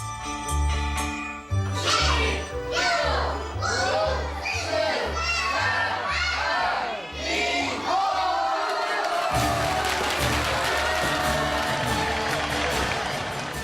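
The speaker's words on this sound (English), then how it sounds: "The entire country cheers when the New Year's bell rings" Crowd cheering during Spring Festival New Year celebrations in China, a loud dense mix of shouts and voices over steady music with tinkling and a rising wall of noise toward the end.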